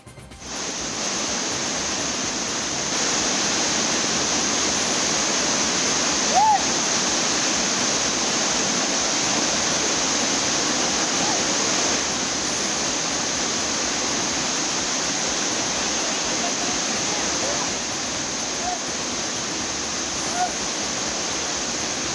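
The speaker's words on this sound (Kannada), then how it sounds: "ಚಿನವಲ್ಕಿ ಫಾಲ್ಸ್ ನೀರು ರಭಸವಾಗಿ ಹರಿತಾ ಇದ್ದು" Chinavalki Falls pouring forcefully over rocks, a steady, dense roar of rushing water that holds constant and close for the whole stretch, with no other sounds standing out.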